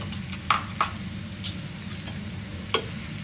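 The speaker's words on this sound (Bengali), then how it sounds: "পেঁয়াজ ভেজে নিচ্ছি।" Finely chopped onions frying in oil after dry red chilies, for a dried loitta fish bhorta, a soft low sizzle with a few sharp pops and crackles scattered across the seconds.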